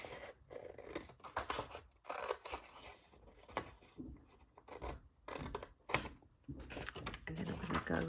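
Scissors cut through paper for a pocket envelope craft: a close series of crisp snips and rustling slides in an uneven rhythm, fairly quiet with no speech.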